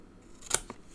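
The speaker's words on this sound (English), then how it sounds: "I'm going to snip that off because I want to turn that pattern round" Scissors make a quick snip through a piece of patterned cardstock during card making, a single close crisp cut with a faint second click right after, in an otherwise quiet room.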